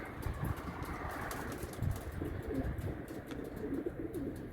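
Low, soft cooing from Gök Takkalı pigeons during a training session, repeated throaty coos at moderate distance over a busy background of rustling and faint wing flutter, with no one speaking.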